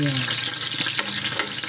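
Onion sautéing in a pan, a loud dense sizzle with a few stirring scrapes and clinks, over a faint voice early on.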